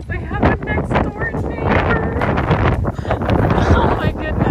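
Loud, continuous wind buffeting a microphone outdoors at a horse barn, rumbling and gusting throughout with no pause.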